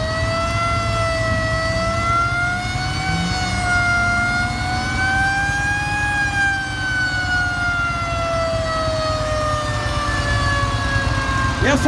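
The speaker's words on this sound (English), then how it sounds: "blow the siren or no siren?" A fire-engine-style siren sounds at a Wall of Death stunt show, wailing continuously and loudly for about twelve seconds with slow rises and falls in pitch over a low engine rumble.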